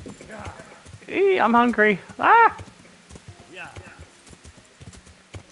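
A horse clip-clops along in the Kingdom Come Deliverance video game, its hoofbeats a quick run of hard taps beneath a man's brief spoken line.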